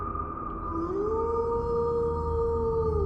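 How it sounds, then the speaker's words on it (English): Werewolves howling together, several long wavering howls layered over each other and rising in pitch, sounding distant and sustained over a low steady rumble. "A pack of werewolves howling"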